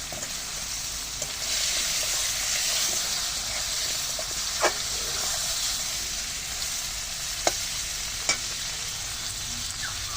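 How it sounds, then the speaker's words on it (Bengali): Potatoes and prawns frying in a pan, a steady loud sizzle and hiss with occasional clicks of stirring, continuous and close throughout. "আলু দিয়ে চিংড়ি দিয়ে খুব সুন্দর করে ভেজে নিলাম"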